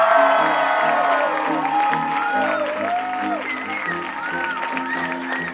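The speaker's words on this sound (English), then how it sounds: "please put your hands together for our newlyweds, Tim and Jackie Walsh." Wedding guests clapping and cheering for the newlyweds at a reception. Sustained applause fills the room under loud, bright music with a melodic lead, and there is no talking.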